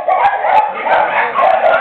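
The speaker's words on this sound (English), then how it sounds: "It's a little dog." A small dog at a dog play park gives several quick, high yappy barks in close succession, loud and near, with faint background activity.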